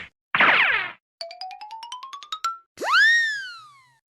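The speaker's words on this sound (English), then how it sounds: "Cartoon sound effects." A string of cartoon sound effects plays with no talk: a quick slide whistle, a rapid rising boing run of plucky notes, then a long springy descending boing, all close and clean.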